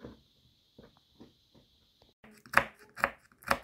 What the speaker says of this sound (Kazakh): Міне грецкий орегімізді да осылайынша майдалап турап аламыз онда.